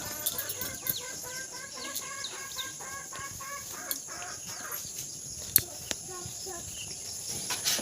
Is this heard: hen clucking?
yes